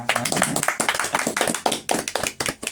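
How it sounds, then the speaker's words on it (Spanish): Sharp, distinct handclaps from a small group on a literary podcast, brisk and uneven, with individual claps standing out close to the microphone. "Un aplauso"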